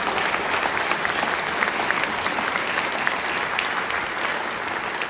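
Dense, steady applause from a concert audience greets a Hindustani classical vocalist at the Swaranjali 2025 music event, with many hands clapping continuously and evenly for about five seconds and no voices standing out.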